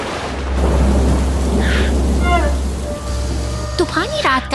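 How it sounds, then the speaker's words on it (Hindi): Cartoon thunderstorm over a dark city at night, with loud, steady rain and rumbling thunder filling the scene close up, while squealing whistle-like effects and voice-like sounds break in over the storm. "तूफानी रात का अंधेरा शहर को अपनी चपेट में ले रहा है, बिजली की कड़क के बीच।"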